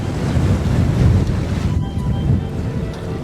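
Strong wind and rolling waves at sea beside a glacier with floating ice chunks, heard from a sailboat as a loud, continuous rushing roar with microphone buffeting throughout.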